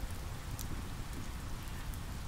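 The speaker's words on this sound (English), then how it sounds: "The rain is heavy, but it feels so light and refreshing" Heavy rain pours steadily over an outdoor clearing near falls, a close, dense and unbroken wash of drops with no voices.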